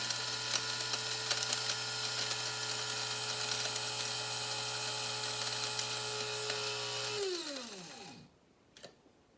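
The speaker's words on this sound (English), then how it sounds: "So I got my coffee grinder filled. I'm gonna plug this in." Electric coffee grinder grinding dried celery into powder: a loud, steady motor whine with a high gritty rattle runs for about seven seconds, then the motor cuts off and spins down to silence. No one speaks.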